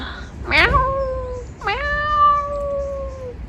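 Two drawn-out meows from a small cat come in close succession, clear and near, the second longer and falling away, with faint background noise.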